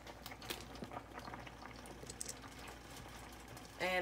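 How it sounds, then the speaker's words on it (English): Faint, steady crackling and popping of spaghetti with feta sizzling gently in a pan, with irregular small pops throughout and a slightly louder burst at the end. "It's just sizzling a little bit."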